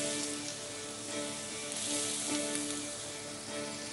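Steady sizzle of food hitting hot oil in a pan on a cooking show, a continuous bright crackling hiss that swells slightly and holds close and even throughout.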